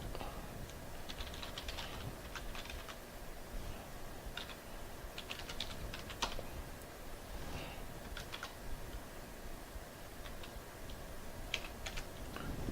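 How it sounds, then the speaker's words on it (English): Fingers type on a computer keyboard with continuous, irregular keystrokes. The clicking is fairly faint and steady, with a few louder taps and no talking. "we're gonna have to type it out"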